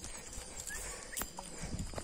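A horse walks ahead on a road leaving Nazaret toward Bogotá, its hooves clip-clopping in an irregular rhythm at moderate distance over steady background noise, with no voices heard.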